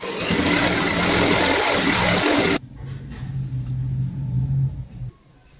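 A sewing machine runs steadily for a few seconds, double-stitching the seam of a cloth snake, then cuts off, leaving a quieter low hum and light handling noise.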